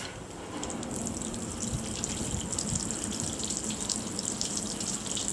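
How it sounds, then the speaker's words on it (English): Water pours steadily from a watering can into the seal of a Front Runner Wolf Pack Pro storage box, a close, continuous splashing gush with faint dripping accents and no talk. "Maybe I'm just putting in too much water so quickly it's coming up and over"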